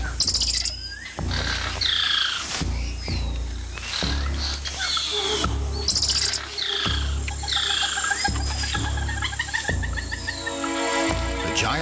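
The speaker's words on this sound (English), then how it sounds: "The squirrel monkey spots a harpy eagle and sounds the alarm, alerting everything in earshot." Squirrel monkeys give shrill, repeated chirping alarm calls in the Amazon rainforest canopy as a harpy eagle approaches, rapid high cries over a thick background of insects and other birds, with deep booming thuds woven through.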